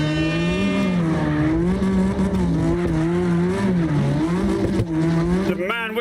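A car drifts in the CarX Drift Racing Online video game on the Red Rock map, with a loud, sustained engine whine that wavers in pitch and a squealing tire slide, running continuously and ending in a brief burst of noise.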